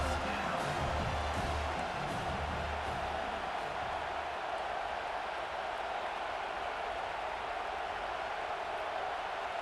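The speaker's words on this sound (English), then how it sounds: "this crowd is getting behind this defense." Steady, dense roar of a large college football stadium crowd cheering on the defense ahead of a big third down in the red zone, sustained and loud throughout.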